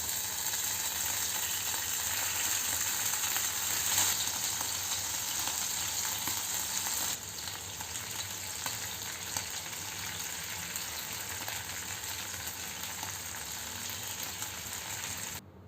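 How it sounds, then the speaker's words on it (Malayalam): Small anchovies frying in hot oil for a crispy restaurant-style netholi fry, a dense, steady crackling sizzle that carries throughout and eases slightly partway through. "ഇനി നമുക്കിതിലേക്ക് ഫിഷ് ഓരോന്നായിട്ട് ഇട്ട് കൊടുക്കാം."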